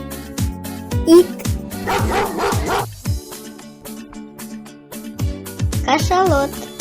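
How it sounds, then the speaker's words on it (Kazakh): A dog barks and yips in several short bursts, one brief run and then more a few seconds later, over a rhythmic music beat. "Ит."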